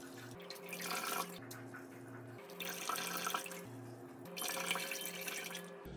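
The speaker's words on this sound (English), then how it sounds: "Just gonna push this warm water through the Sawyer." Warm water being pushed through a Sawyer Squeeze backpacking water filter as part of backwashing, a steady splashing flow that swells and eases in three pushes, with a faint low hum underneath.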